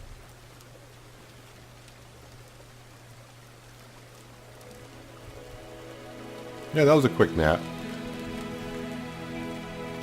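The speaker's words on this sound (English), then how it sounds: "you can see it's raining" Steady rain falls in the farming game Farmer's Dynasty as an even, continuous hiss, with someone speaking briefly over it.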